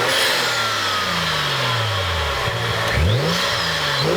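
A BMW 335i with the N55 turbo engine and a Burger Motorsports intake revs inside a garage, the pitch sweeping down and then rising again in quick blips, loud and close with no talking.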